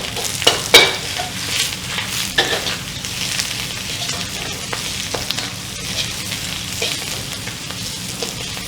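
Cabbage with pork cracklings stir-fried in a wok over a small home burner, a steady loud sizzle and crackle with scattered scraping and clacking of the spatula against the wok throughout.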